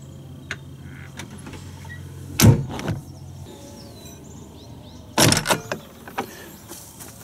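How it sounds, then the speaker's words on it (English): An RV entry door opens with a sharp latch clack and rattle, and a few seconds later the screen door follows with a second clatter of latch and frame. Both are close by, with a quiet background between them. "I open the main door and then I also have to open the screen door."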